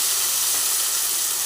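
Tomato paste frying in a pan with ginger and dried chili paste, a loud steady high hiss and sizzle with no pauses.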